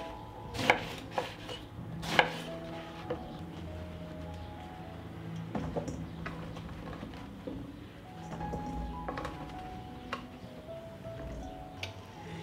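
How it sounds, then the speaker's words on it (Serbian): Sharp knife strikes on a cutting board as an eggplant is cut into pieces, irregular chops with a few louder hits early on, close and otherwise quiet. "I tako ću iseći sav patliđan."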